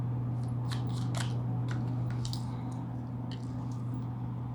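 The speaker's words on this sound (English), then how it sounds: "Too many fell out, I'll shuffle again." Crisp papery riffles and snaps as tarot cards are shuffled by hand, several quick bursts over a steady low hum, close and fairly quiet.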